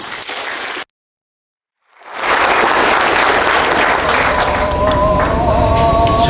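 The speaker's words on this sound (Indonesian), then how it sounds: "Tepuk dulu." An audience applauds at a swearing-in ceremony for 320 government contract health workers in Sorong, loud sustained clapping from a large crowd that begins after a short silence and swells to a steady roar.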